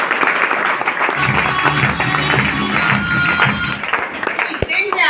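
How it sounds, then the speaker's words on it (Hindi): Loud, dense applause and clapping from a large audience at a stage event, continuous for several seconds with crowd noise and a voice over the top. "एक बार जोरदार ताली।"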